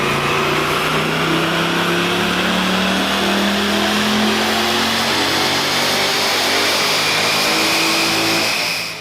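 A stock Chevrolet Corvette C8 Z51 Stingray engine roars at full throttle on a dyno, a loud sustained rising drone of rising pitch that holds for the whole stretch, with no talking.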